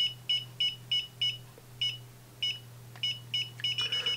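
A Tacklife MET01 field strength meter beeps in short repeated tones, steady at first then speeding into a rapid, frantic run of beeps over a low hum as field strength rises.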